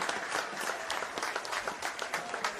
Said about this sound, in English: I'll give them a big round of applause, please.